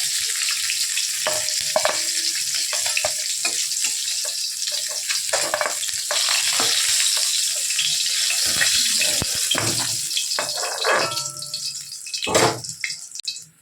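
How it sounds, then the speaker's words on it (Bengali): Koi fish frying in hot oil, lightly fried for tel koi, make a loud, dense sizzle close by, with bursts of crackling and spattering and a few stirring knocks, without speech. "এইভাবে মাছগুলো ভেজে নিই। এইভাবে আমি সব মাছগুলো ভেজে নেব।"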